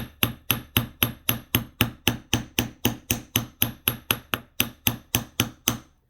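Steady hammer taps flattening craft wire held flat on a hard surface, about twenty sharp close strikes at an even pace over several seconds, with no talking.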